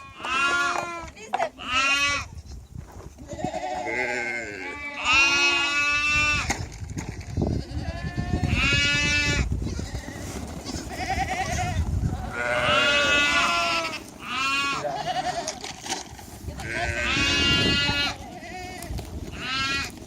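Lambs and goat kids bleating on a farm in spring, a near, loud, overlapping chorus of wavering cries repeating throughout, while a person talks and laughs among them.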